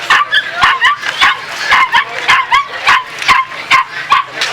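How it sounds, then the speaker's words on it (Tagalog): Several dogs, including small breeds like chihuahuas, barking and yipping repeatedly at an animal market, sharp close barks and whimpers in quick irregular bursts. "ang daming aso"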